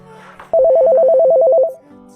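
A telephone ringtone sounds during a call as a loud, close, rapidly warbling electronic tone that lasts just over a second, with faint background sound before and after it.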